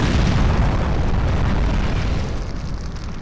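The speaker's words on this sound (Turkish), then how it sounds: "Bomba patladı." Bomb detonating in the video game Point Blank, a loud broadband blast with a rumbling tail that slowly fades over about three seconds, no talk over it.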